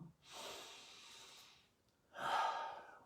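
A person takes a slow deep breath in a calm relaxation exercise, then blows the air out audibly in a long close exhale, two soft airy breaths with a pause between.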